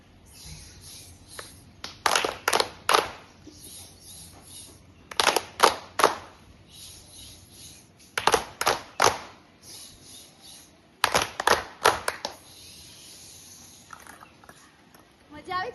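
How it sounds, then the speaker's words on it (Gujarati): Children clapping hands in rhythm for a classroom clapping game modelled on opening a Thums Up bottle, in bursts of quick claps separated by pauses, with a few short voice-made pops. "આપણે 2 વાર તાળી પાડીશું અને થમ્સઅપમાં ખોલીએ ત્યારે જેવો અવાજ આવે તેવો અવાજ આપણે આજુબાજુ અને ઉપર નીચે કરીશું"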